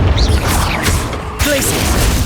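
A Confringo spell in Hogwarts Legacy goes off with loud, booming blasts and crashing impacts in the middle of busy combat, with brief whooshing effects between the hits.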